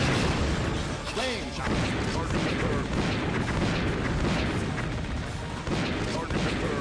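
Heavy gunfire and booming blasts from a shotgun in a video game, loud and dense, with repeated shots blending into a continuous din of explosions and clatter while a voice talks over it.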